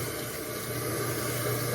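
Cool tap water runs steadily into a sink for a face rinse, a continuous close hiss with no voices.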